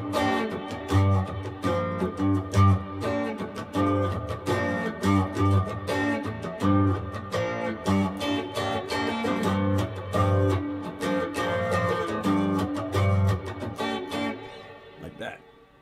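Electric guitar played through a distorted Marshall amp, a dense, continuous run of gritty chords and notes with steady loudness throughout, fading slightly at the end.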